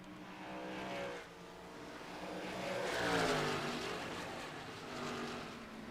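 Race cars racing hard at Iowa, several engines roaring and shifting pitch as they accelerate and pass, swelling and fading over the seconds with a continuous loud mechanical drone.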